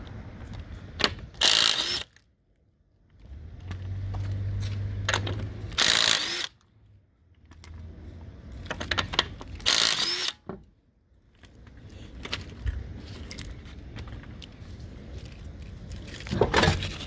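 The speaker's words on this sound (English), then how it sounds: "Try to get your impact gun. Makes life a lot easier taking out the wheel." Impact gun working loose the wheel nuts during a front CV driveshaft axle replacement, sounding in several loud bursts of rattling, hammering whir separated by short pauses, close by with no talking.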